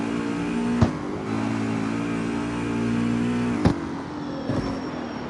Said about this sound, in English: how can you not like the sound of the straight cut transmission?